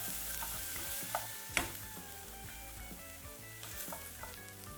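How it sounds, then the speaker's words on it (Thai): Onions sautéing in a pan for a zucchini spaghetti sauce, a soft steady sizzle with occasional utensil clinks and scrapes against the pan. "เราจะผัดให้ หอมใหญ่ออกเป็นสีใสๆเลยนะคะ เป็นขาวๆใสๆเลย"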